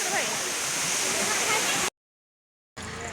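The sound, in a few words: Bada Ghaghra waterfall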